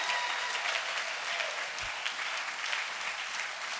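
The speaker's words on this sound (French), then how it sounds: "nous l'applaudissions" Continuous, dense applause from a church congregation during a sermon, steady and loud throughout with no break, with a faint low thump partway through.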